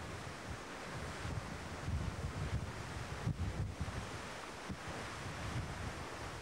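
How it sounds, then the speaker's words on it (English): The bow of the expedition ship Polar Pioneer breaks through small bergs in icy ocean water, giving a faint, continuous rushing wash with soft surges and wind noise over the microphone. "the bow is breaking smaller bergs"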